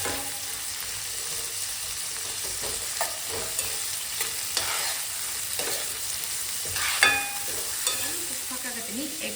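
Onion fries in oil for a green gram curry with a soft, steady sizzle and occasional crackles and stirring scrapes, fairly quiet and unbroken by speech.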